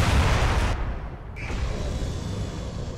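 Heavy weapon fire from battle mechs in the sci-fi combat game MechWarrior Living Legends, a loud booming burst that cuts off sharply, then lingering low rumble and distant shots.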